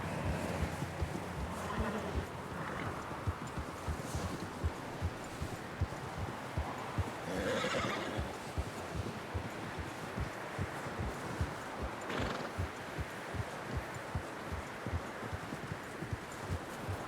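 Horses in a snowstorm in Red Dead Redemption II clop along steadily, with rhythmic hoofbeats throughout under faint wind, plus a brief whinny-like cry partway through.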